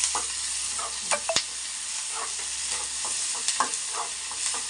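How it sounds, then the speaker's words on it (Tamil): Onions sautéing in hot oil with salt: a continuous sizzle with a few spatula scrapes and clicks against the pan. "இப்போ வெங்காயம் நல்லா வதங்கட்டும்"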